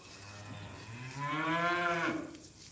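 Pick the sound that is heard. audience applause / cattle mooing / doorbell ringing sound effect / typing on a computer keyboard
cattle mooing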